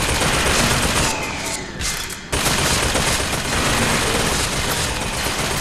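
A turret in the video game Bioshock Infinite fires a dense, continuous barrage of automatic gunfire. It is loud and close, with a short dip in the middle before the fire resumes, and no one speaks.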